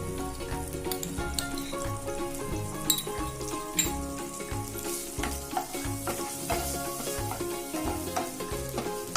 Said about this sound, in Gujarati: આદુ લસણની પેસ્ટને આપણે થોડી એમાં સાતરી લેશું.